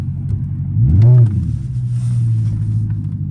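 A straight-piped Dodge Charger RT revs on a night drive, one sharp rising roar swelling then settling into a deep, steady exhaust rumble heard up close.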